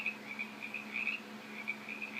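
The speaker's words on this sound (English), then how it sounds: "there's your crickets noise that starts up" Looping cricket chirps from a stock ticker app's sound effect, a steady high-pitched repeating trill over a faint hum, fairly quiet.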